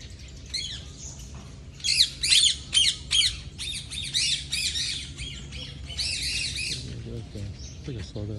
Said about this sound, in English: Ring-necked parrot.